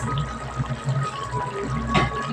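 A Bengali prawn curry broth with mustard and poppy seed, chingri sorshe posto, boils steadily in a pot, giving a continuous close bubbling hiss with no talking.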